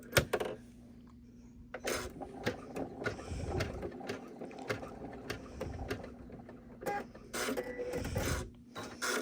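A sewing machine's needle raised by hand, giving a series of close mechanical clicks and ratcheting turns with brief pauses between them.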